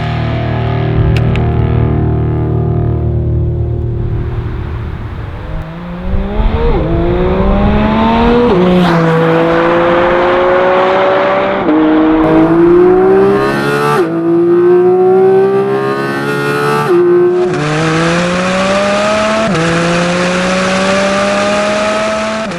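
A Porsche Cayman GT4 RS starts up loudly and then revs hard through several rising sweeps, the flat-six engine close and dominant with no talk.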